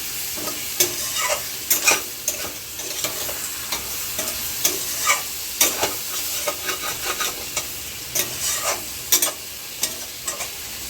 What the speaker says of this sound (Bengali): ভালো করে একটু সাঁতলে নিয়ে